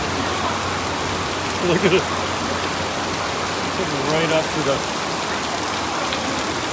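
Heavy tropical rain pours down in Sosua, Dominican Republic, as a steady, dense roar of drops hitting surfaces that stays constant from start to end, with people talking briefly over it.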